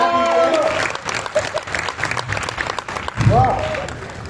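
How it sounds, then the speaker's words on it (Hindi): An audience at an All India Hindi poetry gathering (kavi sammelan) breaks into a sustained burst of clapping that fills the hall, with a voice speaking over it. "जरा ताली वाली बजा दीजिए।"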